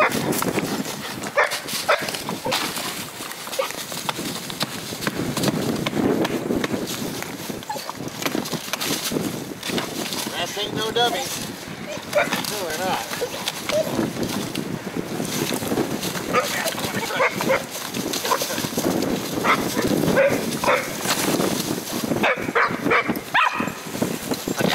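Dogs out hunting rats outdoors, barking in scattered bursts amid steady wind noise and rustling, with occasional voices in the background.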